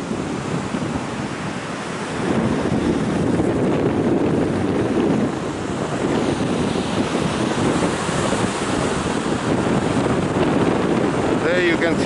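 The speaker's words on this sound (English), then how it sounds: "The breeze is very, very strong." A strong breeze blows on the rocky Ratnagiri coast, loud wind buffeting the microphone in a continuous roar, mixed with the wash of waves dashing against the rocks.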